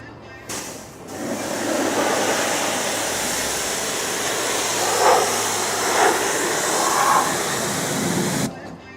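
A steady hiss of pressurized water spray rinsing a car, constant for several seconds with a few louder bursts, cutting off abruptly at the end.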